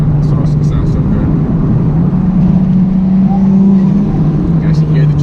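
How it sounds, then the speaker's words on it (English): A turbocharged Nissan 350Z with a straight-piped exhaust drones steadily up close, its engine note rising through a rev with a faint turbo whine, while people talk over it. "You can actually hear the turbo spool."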